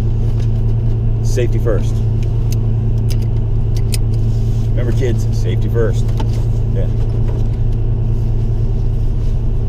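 Idling engine of a 1988 Fox Mustang backing out of a garage, a steady low rumble running throughout under a man's speech, with a few faint clicks and jingles.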